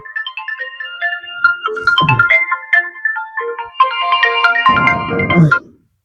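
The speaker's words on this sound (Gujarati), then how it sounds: "કોક ફોન કરે" A phone ringtone plays an incoming-call melody. Two bursts of a bright tonal tune run continuously for about six seconds and cut off abruptly at the end. No one speaks over it.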